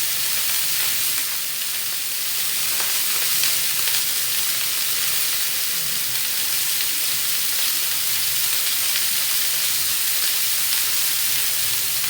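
Beef tikka boti frying in a pan, cooked on one side, with a loud continuous bright sizzle and hiss that holds steady throughout, close up and alone with no talk.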